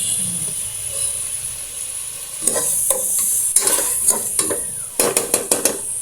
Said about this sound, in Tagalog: nagigisa na yung ating chicken